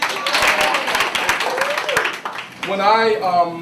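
An audience claps along to the children's song "If You're Happy and You Know It" at a Mother of the Year recognition program, with a dense burst of claps over voices and a speaking voice taking over near the end.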